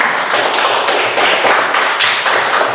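A classroom of students claps together in a steady, continuous round of applause with a light rhythmic patter, close and fairly loud, with no talking over it.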